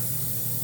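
An airbrush sprays lacquer thinner through its nozzle in a steady, close, continuous hiss with no pauses.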